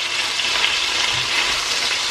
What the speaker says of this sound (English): Then I'm going to fry it a bit